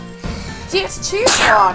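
A person sneezes, a short breathy burst that follows close behind talk, indoors during a frantic couch multiplayer game session, with several voices chatting.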